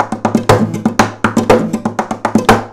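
A hand strikes the body of an acoustic guitar in a steady percussive pattern, about a dozen sharp hits mixed with ringing strummed strings, close and loud with no talking.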